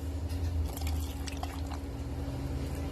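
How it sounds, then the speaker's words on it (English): Peach canning syrup poured through a jar funnel into canning jars, a short steady liquid pour with light trickling and dribbling, close by. "we're going to fill our jars with the syrup"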